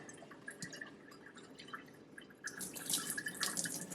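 Water swirled by hand over sprouting seeds in a jar or container during a morning rinse, a soft continuous slosh with dripping and trickling that grows louder and splashier toward the end.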